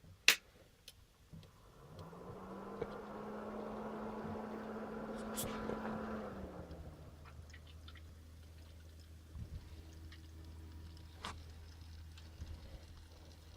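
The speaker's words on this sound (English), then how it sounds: "So far so good. The pumps are turning. I can hear the air" A liquid cooling loop's pumps start up with a rising whir that settles into a steady hum, mixed with gurgling and trickling as air moves through, plus scattered small clicks, then a lower, quieter drone.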